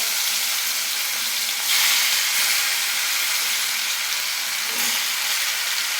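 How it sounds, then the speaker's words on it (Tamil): Chicken pieces hit hot oil seasoned with cinnamon, cardamom and cloves, setting off a loud, continuous sizzle that swells briefly after a couple of seconds. The hiss stays dense and steady, with no talking. "இப்போ நம்மளோட சிக்கன் பீஸை இந்த எண்ணெயில் சேர்த்துக்கலாம்."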